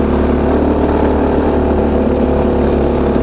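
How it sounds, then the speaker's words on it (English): A mini bike engine fitted with a nitrous oxide kit revs hard on a NOS shot, giving a loud, close, continuous engine roar with no speech. "I heard it rev up"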